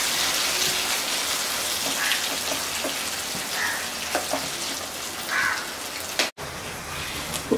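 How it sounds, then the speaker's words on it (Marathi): Amla pulp sautéing in ghee in a home kitchen while being cooked down for sugar-free chyawanprash: a steady, soft hiss and crackle of frying runs throughout, with a few faint stirring scrapes and no voices. "हा छान परतून घ्यायचा त्याला तुपावरती."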